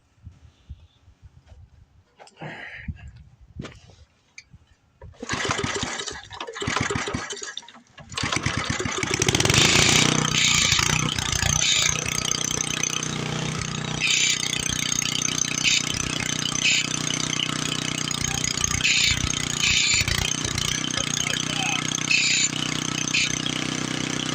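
An old tiller bought at an estate sale is cranked with a few rough starter pulls, catches, then settles into a loud, steady, rattling idle that runs on to the end.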